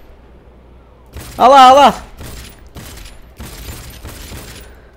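A gun that fires money in the video game Cyberpunk 2077 goes off as several sharp shots after a tonal swelling effect, with someone briefly speaking between them.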